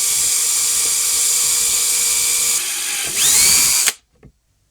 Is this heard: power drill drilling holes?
yes